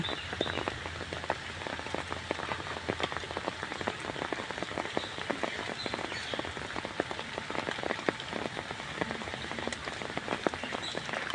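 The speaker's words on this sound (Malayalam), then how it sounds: "നല്ല മഴയാണ് നല്ല മഴ" Heavy monsoon rain pours steadily, a dense patter of drops hitting surfaces all around, continuous and unbroken, beside floodwater.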